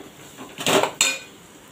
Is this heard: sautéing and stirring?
yes